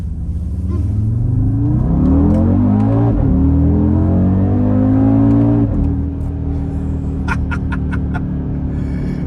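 An Audi RS Q3 performance SUV with four-wheel drive loops through a tight turning circle, its engine a loud, steady close-up drone that rises and falls in pitch, ending with a few sharp clicks.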